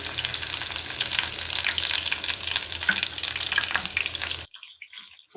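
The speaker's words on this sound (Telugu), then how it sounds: "అల్లం వెల్లుల్లిపాయ పేస్ట్ పచ్చివాసన పోయే వరకు వేయించుకోవాలి." Ginger-garlic paste fries in a pan for prawn pickle, giving a steady, close, bright sizzle with faint stirring scrapes that cuts off abruptly near the end, leaving near silence.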